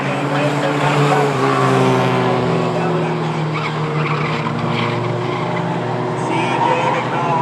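Mighty Trucks race trucks roar around the Star Speedway track in a dense, continuous engine drone with tire noise, loud and close, while an announcer talks over it.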